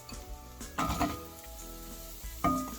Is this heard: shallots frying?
yes